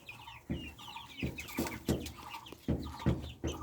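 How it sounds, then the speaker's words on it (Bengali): Farm roosters and chickens cluck repeatedly in short bursts, with bright calls layered over one another and recurring every half second or so. The birds sound close, and no one speaks. "দেখেন আমার মোরগগুলো কেউ সুন্দর ডাকাডাকি করতেছে।"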